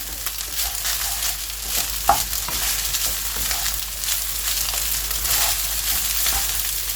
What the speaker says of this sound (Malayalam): ഹൈ ഫ്ലെയിമിലിട്ട് എല്ലാം കൂടെ യോജിക്കുന്നതോടെ വരെ നന്നായിട്ട് മിക്സ് ചെയ്തെടുക്കണം